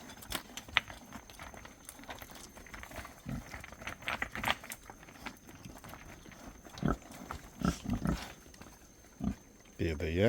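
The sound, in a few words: pigs grunting in pen on Niue Island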